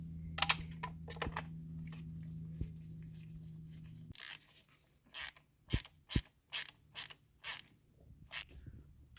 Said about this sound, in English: Once again, we're torquing these to 18 foot-pounds.